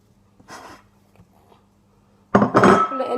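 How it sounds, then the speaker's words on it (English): Crockery clinks and knocks as a bowl is taken down from a kitchen cupboard, a faint brief rattle followed by a louder cluster of close clattering, with quiet breathing between. "I'm just going to get a bowl down to put it in"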